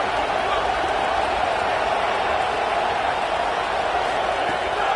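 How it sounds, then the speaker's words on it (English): A stadium crowd in the College Football 27 video game roars on third down, a constant, loud, even wall of crowd noise that holds steady throughout without distinct claps or peaks. "Crowd getting this defense whipped up on third down."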